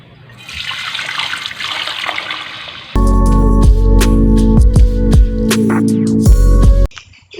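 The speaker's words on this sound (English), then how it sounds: "And now into this, let's transfer our filtered apple wine." Filtered apple wine pouring into a glass jar: a soft trickle first, then a louder steady stream with a rising glassy gurgling ring, close up, stopping abruptly near the end.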